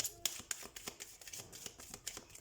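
Tarot cards being shuffled by hand, with crisp riffling flicks and soft slaps in an uneven rhythm, close and quiet.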